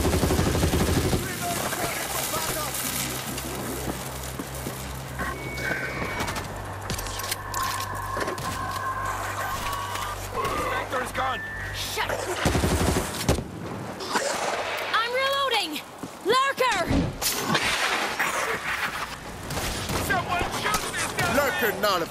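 Turret gunfire rattles in the zombie shooter World War Z Aftermath during a Marseille missile-defense mission, with sustained bursts and impacts running throughout amid game chaos and character voices.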